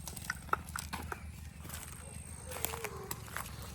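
A mare walks with hooves clip-clopping in a loose, uneven rhythm, faint and somewhat distant, alongside low background rumble and scattered noises.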